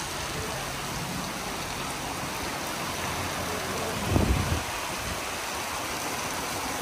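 Rain falls in sunshine during the monsoon, heard as a soft, even hiss of drops, with a short low rumble near the middle.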